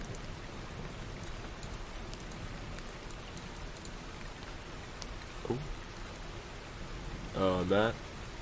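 Steady rain ambience from a rain noise app plays as a constant hiss throughout, with a brief voice breaking in near the end.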